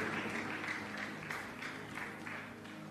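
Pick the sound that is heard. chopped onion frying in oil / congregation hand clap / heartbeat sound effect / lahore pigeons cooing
congregation hand clap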